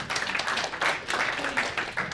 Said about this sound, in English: A round of applause right here.